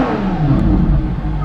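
A Ferrari LaFerrari with straight-pipe exhaust, in neutral, revs hard and fast, its loud engine roar climbing then sliding down in pitch, up close with no speech.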